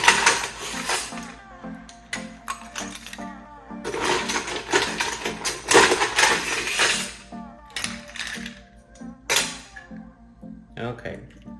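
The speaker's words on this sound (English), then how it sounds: "First, we're gonna put some ice in here." Ice cubes go into a cocktail glass in a series of bright, irregular clinks and rattles, several separate bursts close by, with a voice speaking between them.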